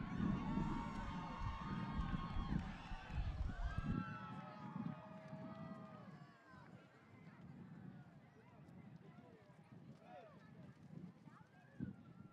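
Crowd cheering and shouting along the course as young children run a pancake race at a Pancake Day event, loud at first and easing to a busier murmur, with an announcer's voice over it.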